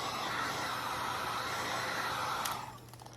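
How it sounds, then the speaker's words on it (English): Loud, steady whooshing of a heat gun blowing hot air to dry paint on fake wood, with a low motor hum, cutting off near the end, leaving quieter rustling. "I'm just gonna heat gun this to dry it."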